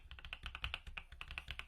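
Keys clicking on an Attack Shark X85 mechanical keyboard, a quick run of crisp, close typing taps in a fast, slightly uneven rhythm, fairly quiet and heard alone.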